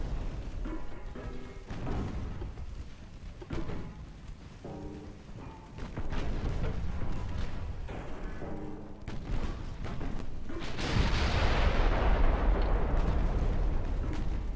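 Naval artillery in the Ultimate Admiral Dreadnoughts warship game fires in irregular booming bursts, with heavy shells ricocheting off thin belt armor, building into a dense, roaring barrage of explosions toward the end.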